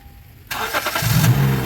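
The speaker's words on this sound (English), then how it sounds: "that sounds like a running car to me" A 2013 Honda Civic engine starts after a quiet half second, catching with a sudden rise and settling into a steady, close idle with a low hum underneath.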